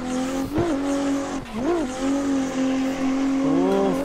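A sim-racing car in Assetto Corsa, driven on Evergreen Raceway, gives a loud, steady engine drone broken by several quick pitch dips and rises as the car shifts up through the gears, with no talking.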